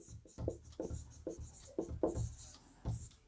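Pen or chalk writing out a maths solution on a right triangle problem in a class 9 lesson, heard as a series of short scratchy strokes with brief pauses, close and fairly quiet, alone without talk.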